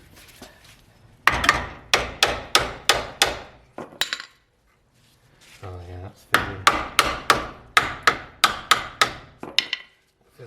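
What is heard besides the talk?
hammer striking brake caliper on Mitsubishi Delica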